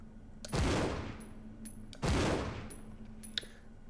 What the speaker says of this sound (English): There's something hilarious about seeing Rebecca firing a gun the size of her head